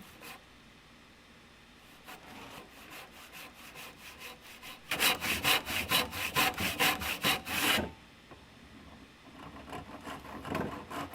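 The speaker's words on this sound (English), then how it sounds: "on this one I was sawing pretty straight, so it came out pretty good" Hand saw cutting through wood while carving a wooden coffee mug, a tenon-style vertical cut: light scattered strokes at first, then a loud run of quick, rhythmic back-and-forth rasping strokes, then quieter strokes resume.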